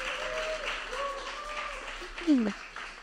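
Applause for a guest in a podcast studio, a small group clapping at moderate level under voices, with a brief louder vocal exclamation near the end.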